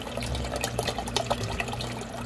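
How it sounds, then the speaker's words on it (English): Clean spring water pours steadily into a cooking pot for pork bone soup, a continuous close splashing and gurgling fill with no talking. "And add on the new spring water, clean water."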